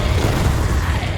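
A Confringo blast spell in Hogwarts Legacy goes off as a loud, dense, rumbling explosion that roars for the whole brief moment.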